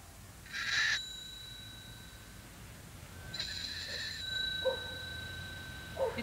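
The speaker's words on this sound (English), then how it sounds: "When I take a piece of dry ice, a curious thing happens when I touch it on the bell of my bicycle." Dry ice pressed against a bicycle bell makes it sing with sustained, faint ringing squeals in two main bursts, followed by a few short chirps in a quiet setting.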